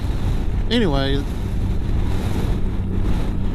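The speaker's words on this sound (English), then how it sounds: "And sorry for the wind, it's kind of windy today." Heavy wind buffets the microphone in a constant loud roar, with a single spoken word briefly rising above it near the start.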